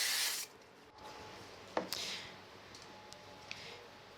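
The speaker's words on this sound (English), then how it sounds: "I'm going to use spray glue on this." A short broadband hiss of aerosol spray glue on acetate bursts at the start, followed by a few faint taps and quiet handling sounds.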